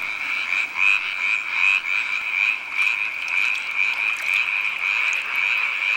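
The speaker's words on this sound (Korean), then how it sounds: "다른 경쟁자보다 더 큰 소리를 내기 위해 울음주머니를 최대한 부풀려야 한다." Male tree frogs calling with inflated vocal sacs, a loud dense chorus of rapid trilling croaks that runs without a break, close and clear over a quiet background.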